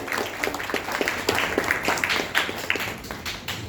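Audience at a welcome ceremony applauding, dense, loud clapping sustained throughout with rhythmic pulses and faint background voices.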